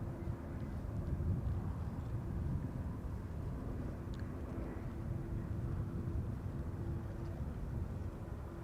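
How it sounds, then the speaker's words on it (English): Air France A320 jet landing on the Polderbaan runway at Amsterdam Schiphol, a steady broadband engine roar at moderate distance holding fairly constant throughout, with wind buffeting the microphone. "Air France coming in to the Polderbaan. Air France A320"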